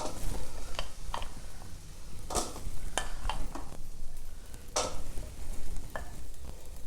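Vegetables being laid into an oiled air fryer basket make a steady hiss with a series of sharp clicks and light knocks as pieces are placed, close and unhurried.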